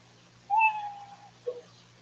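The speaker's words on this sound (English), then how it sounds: "They know their 60 seconds up when they hear the sound of a kitty." Cat meow sound effect played as a cue to end a comedy performer's stage time: one drawn-out, falling meow followed by a brief chirp, clear over a faint background hum with no talking.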